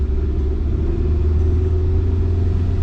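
A neglected, rebuilt low-mileage Honda CR-V, its alignment off, rolls down a residential road. Heard from inside the cabin, the engine and tyres make a steady, deep rumble with a constant drone and no break.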